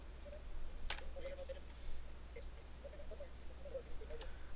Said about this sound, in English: I'm going to go ahead and speed up the video just by pressing plus on my keyboard.